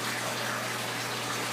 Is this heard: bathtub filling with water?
yes